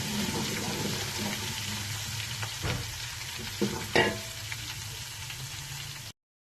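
Something browns in a frying pan for lentil curry with a soft, continuous sizzle, broken by a few light scrapes of a spoon before the sound cuts off abruptly near the end.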